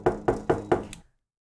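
Four quick, evenly spaced knocks on a door, used as a sound effect in a horror story, fairly close and clear, followed by silence.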